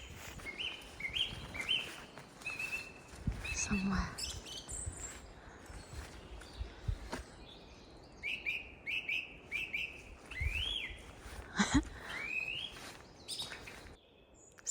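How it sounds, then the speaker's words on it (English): A song thrush sings from a tree on a Dartmoor morning, repeating short bright phrases again and again, clear over a soft woodland background with other birds faintly present and a brief quiet voice. "that bird is the song thrush, and it repeats these phrases"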